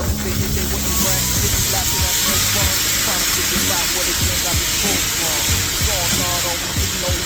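Pepper and onion blend sizzles steadily on the hotter side of a Weber Slate griddle, a continuous loud hiss with crackles throughout, with wagyu beef cooking on the cooler side.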